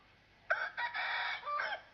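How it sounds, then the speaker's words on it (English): A rooster crows once, a clear cock-a-doodle-doo heard at moderate distance, rising and falling in a few drawn-out segments over quiet background. "it's the rooster demanding that you wake up before the sun."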